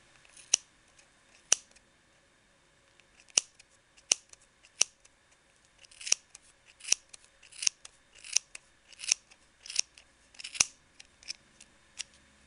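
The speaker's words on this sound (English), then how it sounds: "you're going to take your scissors and you're going to cut in between" Scissors snip through yarn wound on a Clover pom pom maker. The cuts are quiet, crisp and close, widely spaced at first, then coming quicker in a looser run of snips.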